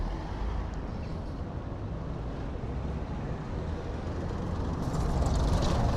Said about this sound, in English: With all the traffic